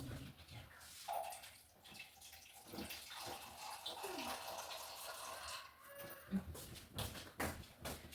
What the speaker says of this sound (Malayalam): കുറച്ച് വെള്ളം കൂടി ഒഴിച്ച്